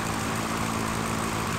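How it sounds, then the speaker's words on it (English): Propeller airplane engine in the Sierra Pro Pilot flight game, a constant loud droning hum with a steady buzzing tone and no pauses. "flying my little plane"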